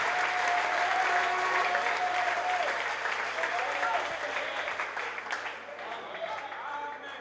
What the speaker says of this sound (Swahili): Unaweza kushangilia Bwana juu ya ile.